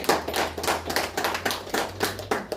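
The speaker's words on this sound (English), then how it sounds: "how about a big round of applause for Daisy from the morning." Scattered hand clapping from a small group at a press conference, uneven bursts with a low hum underneath.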